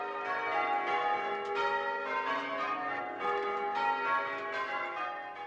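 Church bells ring in a continuously changing order as a change-ringing method is worked through, the tones clear and dense with overlapping strikes in a steady, even rhythm, with no voices.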